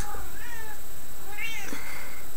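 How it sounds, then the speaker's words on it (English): A house cat meows loudly and close by, two drawn-out rising-and-falling calls about a second apart, over a faint background hum with no talk. "the cat's saying hello"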